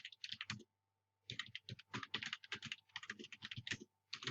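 Close, steady computer keyboard typing while a new product's description is entered for a Facebook listing: quick runs of key clicks, a brief pause near the start, then continuous bursts to the end, with no talking.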